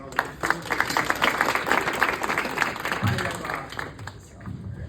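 Students clap for the Elks lodge hosts at a Law Day gathering in Rotterdam, a dense roomful of hands applauding steadily for several seconds, with a voice briefly heard under it near the end.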